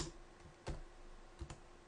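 Computer keyboard typing during PHP coding for a WordPress theme: a few sparse, faint key clicks with quiet gaps between them.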